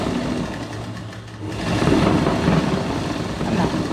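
A sewing machine stitches a churidar bottom with a steady, close mechanical whirr that briefly slows before running faster and louder.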